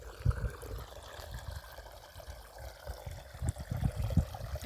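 Irrigation water runs through a channel in a wheat field, a faint, uneven gurgling trickle with soft splashes, continuous and quiet with no voices.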